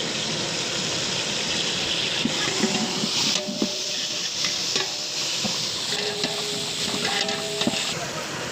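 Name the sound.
cumin, garlic and onion frying in oil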